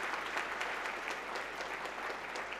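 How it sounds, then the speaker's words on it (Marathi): A crowd at a heart hospital inauguration ceremony applauds to welcome the trustees: sustained, even clapping from many hands, steady throughout, with a faint voice underneath. "मी पुन्हा एकदा आपण सगळेजण टाळ्या वाजवून या सर्व ट्रस्टी मंडळींचं"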